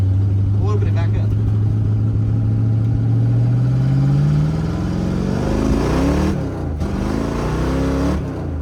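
A Dodge Dart V8 with a four-speed runs loud and close, its revs climbing steadily as the throttle opens, then dipping and surging again near the end; people talk over the engine.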